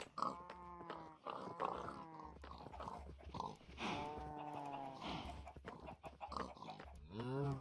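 Minecraft farm animals in a pen, pigs among them, make a jumble of low grunts and bleating, wavering calls that overlap continuously at a fairly faint, close distance.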